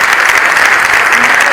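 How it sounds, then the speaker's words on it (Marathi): A hall audience at a felicitation ceremony for newly elected legislators held by Pusad Urban Bank breaks into loud, dense, continuous applause, close and sustained throughout. "मी आपल्या सर्व महानुभावांना विनंती करतो की एकदा माझ्या मित्रासाठी कडकडून शरद मोहीनसाठी टाळ्यांचा गजराचा आवाज केलाच पाहिजे."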